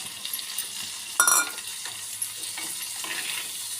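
Garlic and tomato sautéing in a pan for Kerala kootukari, a soft steady sizzle with a couple of brief clinks and stirring scrapes of a utensil, close and fairly quiet, no voices.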